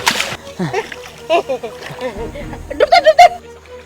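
Water splashes and sloshes as someone dives into a river, with children shouting and calling out over the splashing in short bursts.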